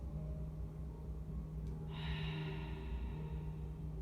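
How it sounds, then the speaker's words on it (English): A soft, open-mouthed "ha" exhale, like fogging a mirror, during a supine core breathing exercise, one breathy gust rising midway through against a quiet steady hum. "Doing this ha breath, fogging the mirror."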